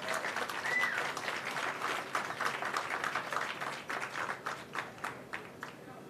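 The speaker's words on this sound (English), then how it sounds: "How about a big round of applause" Applause from an audience at a Hollywood Walk of Fame star ceremony honoring Toshiro Mifune, a steady dense clapping that swells early and then gradually thins and fades toward the end.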